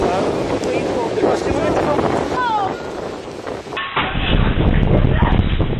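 Strong, loud wind roars during a tornado, buffeting the microphone with heavy rumbling gusts. Voices and shouts come through under the noise and the sound shifts abruptly partway through.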